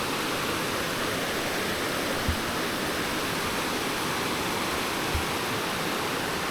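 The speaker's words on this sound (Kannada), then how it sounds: "ಇಲ್ಲಿಂದ ಈಗ ನೀರು ಅಲ್ಲಿ ಕೆಳಗೆ ಹೊಂಟೈತಿ" Steady, dense rush of water pouring down a stream or waterfall, loud and continuous, with no voices and only a couple of faint low knocks.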